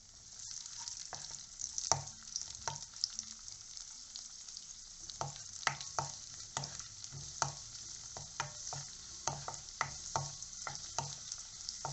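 Raisins fry in hot ghee in a pan, a steady close sizzle broken by frequent sharp clicks and scrapes of a stirring spoon, with no voices.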